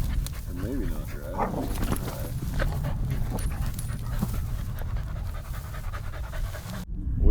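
Close panting from a dog during a coyote hunt, rapid rhythmic breaths with occasional whimpers, mixed with outdoor rustling and murmured talk.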